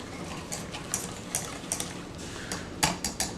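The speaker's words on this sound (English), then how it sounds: "I'm breaking down pieces of the butter" Whisk clinking and scraping against a pan while butter melts, with soft irregular taps and strokes at close range over a faint background hiss.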